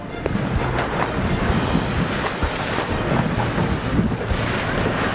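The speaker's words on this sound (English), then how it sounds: "The breeze continues to increase." Strong wind roars and buffets the microphone on open water during a sailing regatta, a loud continuous rumble with gusty surges and occasional thumps from the boat, with no voices.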